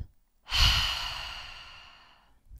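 A single long breath pushed out through the mouth during a breathing exercise, a close airy whoosh that swells quickly then fades slowly, alone in a quiet room.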